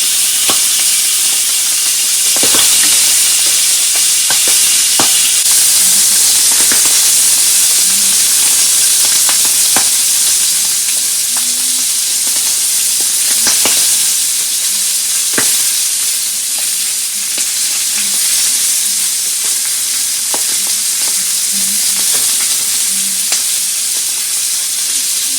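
Salmon frying in an oiled pan, a steady close sizzle and hiss running throughout with occasional sharper pops and crackles, no voices.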